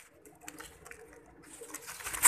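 Pigeons cooing in soft, low repeated calls, fairly faint and close, with a brief louder rustle at the end.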